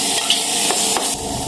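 Crushed ginger, garlic and green chili sizzle loudly in a hot pan with a continuous close frying hiss, broken by a few soft stirring scrapes.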